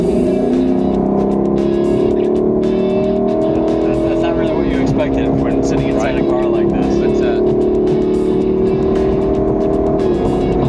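Steady, loud engine drone of a sports car driving, rising and shifting in pitch with gear changes, while people talk over it.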